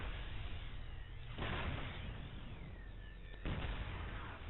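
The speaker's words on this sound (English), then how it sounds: "So, one siege tank attacking that fortress." A StarCraft 2 siege tank fires on a fortress, producing two muffled, booming blasts about two seconds apart over a quiet, steady game hum.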